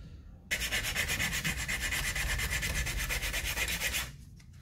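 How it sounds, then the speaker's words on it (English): Steady back-and-forth rubbing of 80 grit emery over a wooden fishing lure, a 70mm shallow diver, close and continuous for about three and a half seconds before stopping abruptly. "80 grit emery. Does some pretty quick work of shaping lures."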